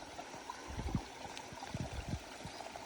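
Water flowing in a clear forest creek, a steady soft rushing with small gurgles, faint and close, with no talk.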